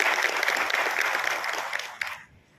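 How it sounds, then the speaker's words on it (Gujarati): Audience at an agricultural fair and exhibition in Gandhinagar, Gujarat, claps in a dense burst of applause that stays steady for about two seconds, then quickly fades out. "તે બધા માટે એકવાર ફરી તાળી થઈ જાય."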